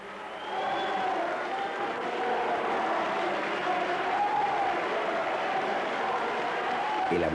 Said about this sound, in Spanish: El abucheo en Guernica a los reyes por parte de los sectores más radicales del nacionalismo vasco